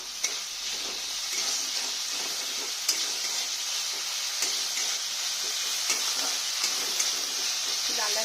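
Tomato and onion with salt fry in a pan, a steady close sizzle with occasional stirring clicks and scrapes, no voices over it.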